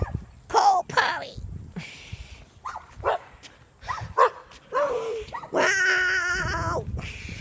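Coyote pups yip, whimper and bark in short, high bursts that build into a longer run of yelping, with excited people talking over them outdoors in the rain.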